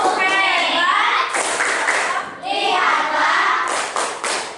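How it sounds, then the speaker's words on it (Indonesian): A classroom of children claps a rhythmic 'tepuk hebat' cheer for group 1, loud, close bursts of hand claps in a patterned rhythm with a teacher's voice and children's voices mixed in. "Coba tepuk hebat dulu untuk kelompok 1."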